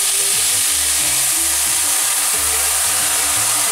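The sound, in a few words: rice sizzling as white wine is added to deglaze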